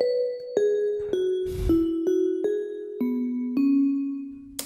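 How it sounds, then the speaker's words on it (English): Lead bell synth patch from Ableton Live's stock instruments plays a descending melody of eight struck, ringing notes at an even pace, each with a bright attack and shimmering overtones, loud and alone. "And the last one is the lead bell. I use Ableton Live stock instruments."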